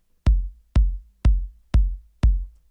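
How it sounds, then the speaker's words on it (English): Low synth kick drum from a synthwave track, played solo: five deep, round thumps at a steady even pulse about half a second apart, each with a soft decaying tail, close and loud with no other sounds. "Just kind of a real low thump"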